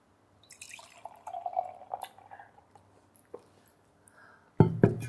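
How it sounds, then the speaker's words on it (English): Craft beer, a solid gose from Pure Project, glugs and trickles into a glass in wet, dripping bursts, with a louder splashing pour near the end; close up, no talking. "You need another pour. Let's pour that."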